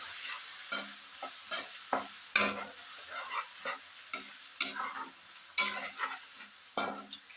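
Ginger frying in a hot pan for a Kerala-style beef roast: a soft, steady sizzle broken by repeated scraping strokes of a spoon stirring the pan, close and fairly quiet.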